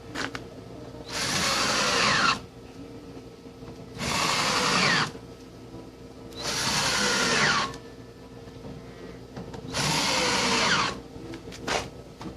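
A power driver sinks screws into a wooden carport cross beam in four steady whirring bursts of about one to two seconds each, with quiet pauses between them, close and loud.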